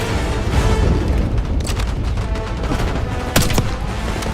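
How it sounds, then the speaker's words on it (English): Dense battlefield gunfire and booming explosions roar continuously in a Call of Duty: Black Ops 6 scene, loud and close, with a few sharper cracks standing out near the end. "Give us some cover fire."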